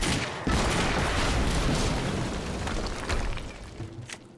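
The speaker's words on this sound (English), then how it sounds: "HQ, we just heard an explosion near the harvesting perimeter." Barrels blowing up in the video game Quantum Break, a loud sustained blast with rumbling debris and crackling bursts that fade over a few seconds, with no talk.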